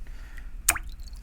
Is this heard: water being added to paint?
yes